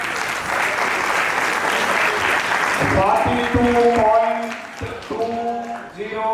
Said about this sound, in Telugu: ఎస్, ఒకసారి చప్పట్లు పడండి